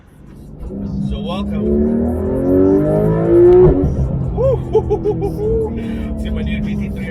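The 4-liter engine of a 2016 Porsche 911 GT3 RS revs hard, its rising and falling tones climbing to a sharp peak, then blipping in short bursts while someone talks over it.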